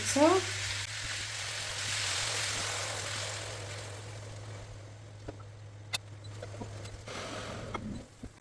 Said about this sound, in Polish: I na wysokiej mocy musimy ją podsmażyć, żeby tylko się mięsko zamknęło